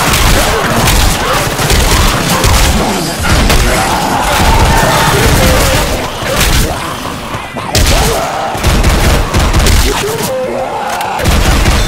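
Grenade explosions and heavy gunfire in Left 4 Dead 2, a dense, loud barrage of booms and cracking shots with a few short lulls, continuous and close throughout.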